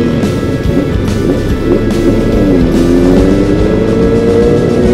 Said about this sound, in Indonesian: Gila berisik banget. Aduh berisik banget motor.